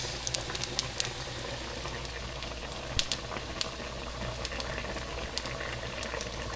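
Chicken sizzles and bubbles in a pot for Jamaican brown stew chicken, a steady close frying hiss with scattered sharp pops and crackles throughout.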